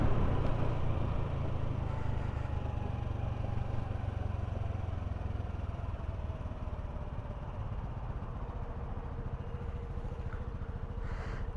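A Honda Navi motorcycle engine hums steadily while riding toward downtown Louisville, a close, continuous mid-pitched drone with wind rush and slight pitch drift as speed changes, no talking.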